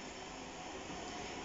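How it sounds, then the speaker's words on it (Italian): A vacuum cleaner runs close to a room, a steady unbroken broadband roar that holds at a constant level throughout with no pauses or voices. "quando mia madre finirà di passare l'aspirapolvere vicino alla mia stanza"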